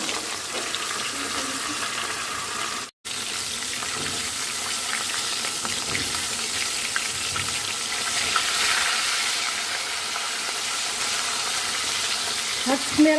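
Meat sears in a cast-iron cocotte pot for a Moroccan meat-and-prune dish, giving a steady, close hiss and sizzle that continues throughout with a brief break near the start.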